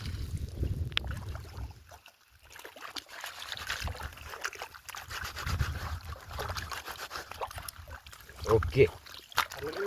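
Palash leaves being rinsed in lake water, soft splashing and trickling under nearby talk, with quiet gaps between bursts of sloshing.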